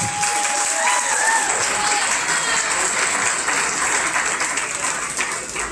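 A crowd at a goat show applauds steadily and loudly throughout, dense clapping with a few faint whistles near the start.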